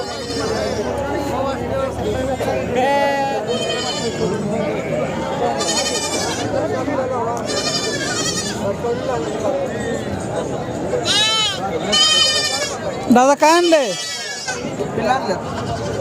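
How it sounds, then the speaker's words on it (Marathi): Goats and sheep, including young four-to-five-month-old animals, bleat repeatedly at a livestock market in Sangola, several wavering cries from nearby animals rising over a steady murmur of people talking. "बारकी लहान पिल्ल आहेत शेळीची मेंढी सगळी मिक्स"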